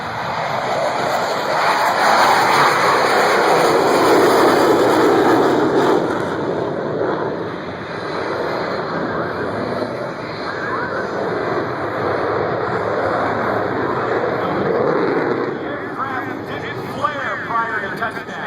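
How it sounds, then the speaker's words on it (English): An F/A-18 Super Hornet lands at an airshow, throttles pushed forward at touchdown, giving a loud, sustained broadband jet roar that swells and eases over the whole stretch, with a voice talking over it. "Every time the aircraft touches down, the pilot shoves the throttles forward in case the tail hook misses the wires"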